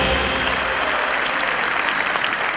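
Dense, continuous applause from an audience at a commemorative gathering, many hands clapping steadily and loudly with no voices over it.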